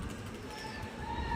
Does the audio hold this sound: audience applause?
no